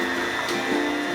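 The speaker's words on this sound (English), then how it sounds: "So now I'll let the sugar and cream cheese come together, which will take about a minute or two on medium." A KitchenAid stand mixer on medium speed beating cream cheese and sugar for New York style cheesecake, a steady close motor whir with no pauses across the short stretch.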